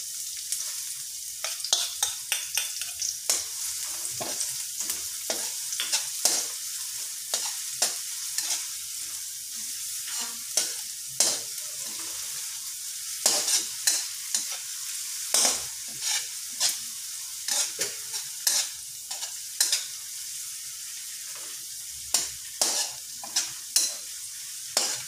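Chopped onions fry in a hot pan with a constant sizzle, broken by repeated scraping strokes of a spatula stirring them, all close up and without any voices.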